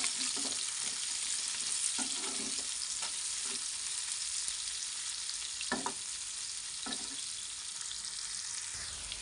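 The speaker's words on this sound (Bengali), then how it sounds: "এবার আমি এর মধ্যে গাজরগুলোকে দিয়ে দেব, এগুলোকে আবার ভালো করে ভেজে নেব।" Carrots fry in a pan for chicken soup, giving a constant soft sizzle broken by a few scattered scraping stirs, close and moderately quiet with no talking.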